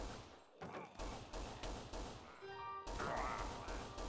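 Gunfire cutting down zombies and bandits in a zombie survival video game, a rapid string of sharp shots with metallic crashes and dings, over a steady game backdrop.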